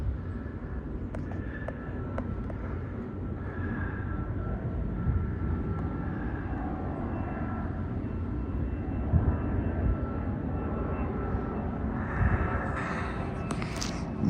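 A twin-engine airplane passes overhead as a distant, steady low drone that hums on for the whole stretch, faint and unbroken, with a slight swell near the end.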